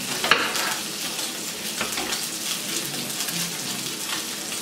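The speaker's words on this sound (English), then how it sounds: "Our skin should be good and crisp by now, so let's go ahead and turn it." Fish skin fries crisp in a hot pan with a steady, close sizzle and crackle, a few clinks of a utensil breaking through near the start.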